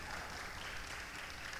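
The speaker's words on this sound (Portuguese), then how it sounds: "Salva de palmas para o nosso querido baterista" Brief, faint applause from an audience for a drummer, a soft steady patter of many hands that holds evenly for a moment.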